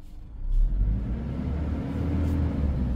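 A 2016 Toyota Innova 2.0 engine revs up hard, its low rumble swelling to a loud peak and then holding a steady, throaty drone close by with no talking.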